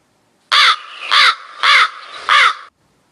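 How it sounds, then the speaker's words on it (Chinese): A crow caws four times in a slow, even series, each call loud, harsh and close, with no other sounds around it. "乌鸦"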